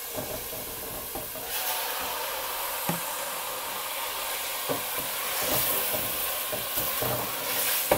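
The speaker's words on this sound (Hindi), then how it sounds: "अब हम इसमें चिकन डाल देंगे" Chicken pieces frying in a pan with garlic ginger paste give a steady, moderate sizzle. Faint scraping knocks from stirring come through now and then, and no one speaks.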